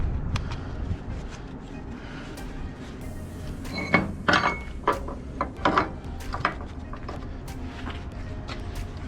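Ratchet strap being threaded and cranked while securing air conditioner units for transport, a close series of irregular clicks and rattling knocks clustered in the middle.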